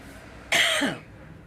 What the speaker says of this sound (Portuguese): Deu um pouquinho de tosse.